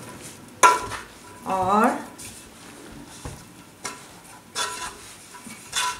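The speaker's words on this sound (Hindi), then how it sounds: "चम्मच के साथ, अच्छे से मिक्स करेंगे ऐसे" A spoon stirs pakora batter in a bowl, giving soft wet squishes and a few clinks against the side, close by, as someone talks over the mixing.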